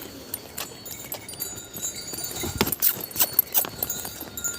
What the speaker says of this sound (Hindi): अरे तब तो घोड़े मिल गए, घोड़े घोड़े घोड़े, कहीं लात न मार दे।